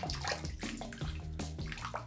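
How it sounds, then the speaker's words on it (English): A shaving brush knot dipped and swirled in a bowl of water, giving close, continuous sloshing and gurgling with splashy bursts throughout. "take my knot, dip it in some water here."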